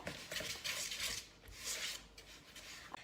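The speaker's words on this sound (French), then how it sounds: "Alors, on mélange bien. On va rajouter l'œuf, naturellement." A spoon scrapes and knocks against a bowl while dog treat dough is mixed with egg, quiet irregular clinks and rubbing strokes close by, no voices.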